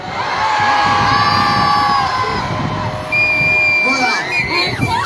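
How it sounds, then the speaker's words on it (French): A festival crowd shouts and cheers loudly for several seconds at an outdoor concert in Brebières. High screams and whoops rise above the dense roar of the audience. "Est-ce que vous savez crier encore plus fort?"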